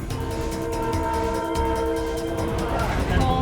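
A PNR passenger train in the Philippines rumbles steadily with a sustained horn tone layered over low mechanical noise, loud and close throughout.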